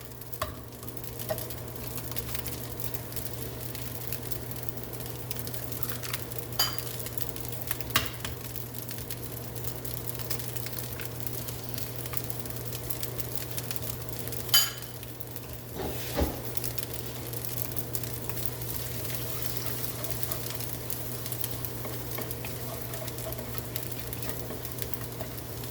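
Eggs fry in leftover bacon oil in a not-very-non-stick pan while cooking Filipino tocino, giving a steady soft sizzle with occasional light pops and stirring clinks, no talking.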